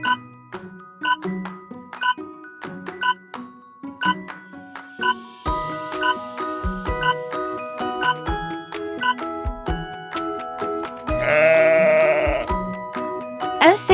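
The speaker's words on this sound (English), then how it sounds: "Sheep." Sheep bleat repeatedly over a light tinkling musical backing, with several short calls and then one longer, louder bleat near the end.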